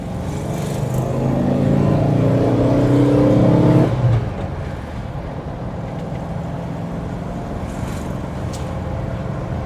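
A 1971 VW bus engine idles and warms up with a steady low rumble that swells slightly, then drops to a quieter, even idle hum partway through.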